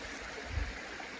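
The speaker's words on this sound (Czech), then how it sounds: "tady úplně nádherný ledový potok, na kterém jsem si schladil hlavu" An icy mountain stream flows nearby, a faint, brief, steady wash of rushing water with a soft low thump in the middle.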